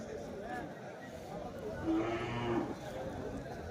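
Cattle at the Vaniyambadi cattle market in Tamil Nadu, with a low moo rising out of a busy outdoor crowd while people talk nearby throughout.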